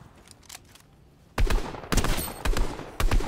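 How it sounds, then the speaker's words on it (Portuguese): Gunfire in the Fortnite video game: several sharp shots fired in quick bursts, loud and close after a quiet stretch, with no talk over them. "Como que pegou esse tiro na cabeça?"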